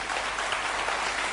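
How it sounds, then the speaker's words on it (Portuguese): Studio audience applauding during a televised Portuguese debate on co-adoption, a steady dense wash of clapping throughout with no voices. "Agradeço os aplausos, mas poupem-nos"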